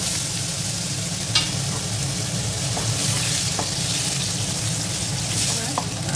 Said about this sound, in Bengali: এবার এই তেলের মধ্যে আমি র ম্যাঙ্গোগুলো একটু নেড়ে চেড়ে নেব।